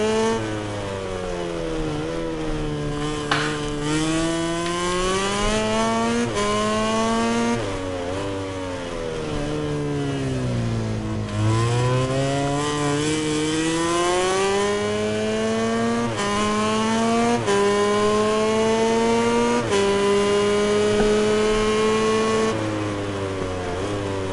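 A MotoGP 19 racing game motorcycle engine sounds in the pit as the bike is taken out for qualifying. Its loud whine climbs and falls through repeated revs and gear changes for the whole stretch.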